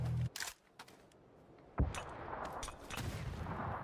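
A grenade blast in a competitive online shooter match lands near parked vehicles, giving one sharp, loud burst followed by a lingering rumbling wash of noise, with other brief crisp bangs just before.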